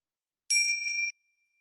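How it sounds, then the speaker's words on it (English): A small meditation bell struck once to open a mindfulness session, a bright sustained ring with clear overtones that fades out quickly after about half a second, close and alone in silence. "we're going to signal that intentionality with a little ring of the bells"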